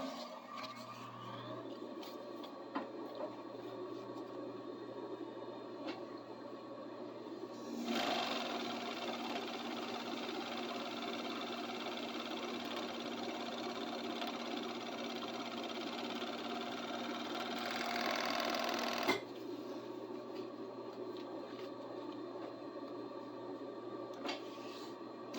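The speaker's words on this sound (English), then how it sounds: "What do you enjoy more, watching the serger or watching the sewing machine?" A serger or sewing machine runs steadily for about eleven seconds, a dense mechanical whir that starts and stops abruptly, with quieter motor hum and small clicks before and after.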